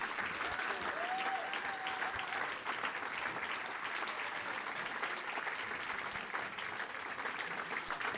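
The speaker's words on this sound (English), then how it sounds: "but a round of applause for the manager." A large audience at a football club's 2019 player awards night applauds the manager, a sustained wash of clapping that stays even and full for the whole stretch.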